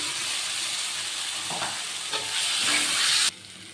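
Potatoes dropped into a pan of cooked-down masala for a vegetarian potol, potato and soybean curry, giving a loud steady sizzle and frying hiss with a few stirring scrapes before it suddenly drops off near the end.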